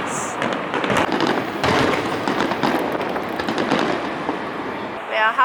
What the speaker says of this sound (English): It's been fireworks since 10:30 and I think it's gonna last until midnight